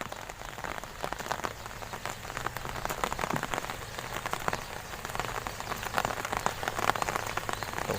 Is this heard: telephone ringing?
no